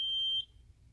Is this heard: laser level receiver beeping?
yes